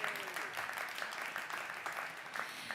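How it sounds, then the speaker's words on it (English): Audience applause at the opening ceremony for a rail line extension, a steady wash of many hands clapping, fairly faint and distant, continuous for the whole stretch. "Let's give him a big round of applause."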